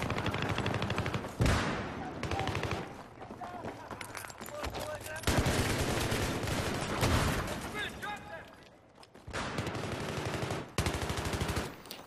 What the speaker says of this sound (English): The AEK fires 750 rounds per minute, and the lack of recoil really does help my shooting